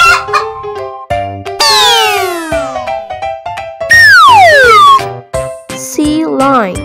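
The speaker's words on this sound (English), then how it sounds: "Chicken." A chicken clucks in a short, loud burst among other animal calls, with harmonic tones sweeping before and after it.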